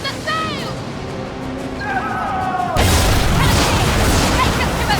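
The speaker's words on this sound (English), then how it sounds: "Drop mortar on him." Ship mortar fire in the naval combat video game Skull and Bones, a heavy booming burst that erupts into a loud sustained roar of noise and splashing, following whistling incoming sounds, with voices talking underneath.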